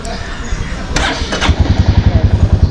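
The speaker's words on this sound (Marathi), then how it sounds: "चालू करून बघतो बाईक चालू होणं सगळ्यात महत्त्वाचं आहे" A motorcycle engine cranks and then catches, settling into a steady, rhythmic idle pulse that is loud and close. Some speech-like sound sits in the background.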